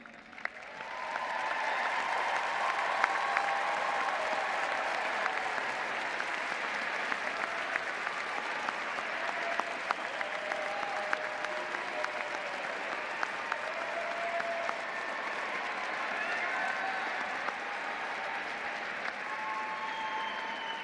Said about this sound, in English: will you please stand so we can applaud your accomplishments?